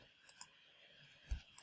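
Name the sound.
computer mouse click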